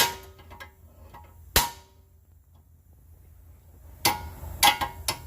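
A hammer strikes the steel suspension hub knuckle of a Dodge Charger or Chrysler 300, giving sharp metallic bangs: one single blow, a pause, then a quick cluster of several hits, loud and close with ringing decay.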